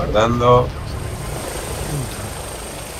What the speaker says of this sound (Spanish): Un drone. ¿Quién lo está controlando?